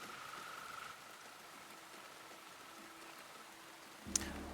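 Steady rain falls onto a courtyard in a video game, a soft continuous hiss that runs throughout, ending with a brief sharp click.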